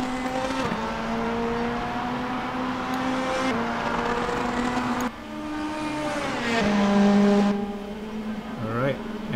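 A race car engine in a racing simulator game, with sustained engine drone, gear shifts and a rising rev near the end, heard under a commentator's voice.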